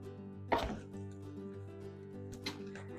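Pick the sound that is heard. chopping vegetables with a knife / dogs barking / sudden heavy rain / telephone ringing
chopping vegetables with a knife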